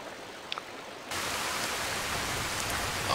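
Rain falling in the video game Skyrim, a steady broadband hiss that begins abruptly after a brief quiet moment and continues evenly.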